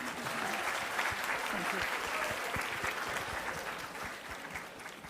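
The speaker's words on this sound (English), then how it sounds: "A big round of applause for all of you" Sustained applause from an audience at a marketing conclave, dense and steady clapping filling the room for several seconds, fading slightly toward the end, with faint voices mixed in underneath.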